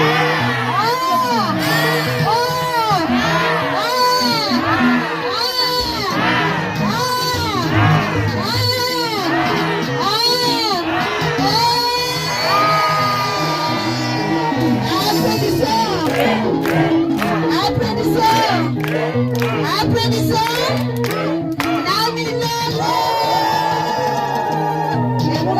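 A church congregation at a Sunday service cheers and acclaims God. The crowd of voices is loud and continuous, with whoops and shouts rising over a steady roar for the whole stretch.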